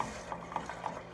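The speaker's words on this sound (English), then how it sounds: "Keep on stirring it. Stir all that in real good." A spoon working through thickening gumbo in a pot, soft rhythmic scrapes and light clinks repeating about every quarter second over a low simmering hiss, brief and fairly quiet with no talk.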